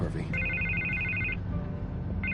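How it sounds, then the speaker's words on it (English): Telephone ringing in a Batman video game, an electronic double-tone ring sounding for about a second, stopping, then starting again, with low background sound underneath. "I can't get the phone to stop ringing."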